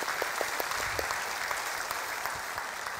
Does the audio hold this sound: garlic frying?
no